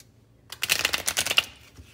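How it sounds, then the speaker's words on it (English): A deck of playing cards being shuffled by hand during a card trick, a short burst of dense riffling clicks lasting about a second after a brief silence, close and fairly loud with no talk. "I'm gonna shuffle these cards up."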